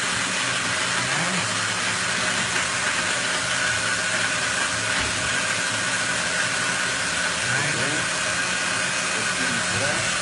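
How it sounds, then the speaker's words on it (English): A blender whirs steadily for about ten seconds, frothing a galaxy cocktail behind a hotel bar, its motor hum loud and constant the whole way through. "blend it till it's quite frothy"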